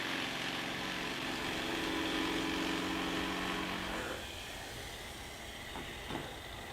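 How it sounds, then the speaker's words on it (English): A jigsaw roughs sheets to size in a home workshop, a steady buzzing cut that runs loud and close for about four seconds before the blade stops, leaving a quieter hiss with a couple of faint knocks. "here I am just cutting the sheets basically to size, just roughing them in with a jigsaw"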